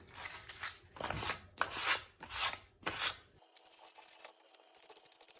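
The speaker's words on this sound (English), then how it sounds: "I'm going to try this 320 sandpaper." Several rhythmic back-and-forth rasping strokes of 320-grit sandpaper on a pipe during a water softener install, close and fairly loud, then giving way to quieter faint handling noise.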